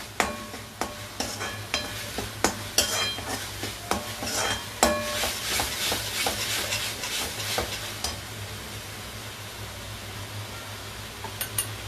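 Onion and tomato paste cooks over a high gas flame, a steady close sizzle broken by repeated scraping and clinking of a spoon against the pan as it is stirred, with no one talking.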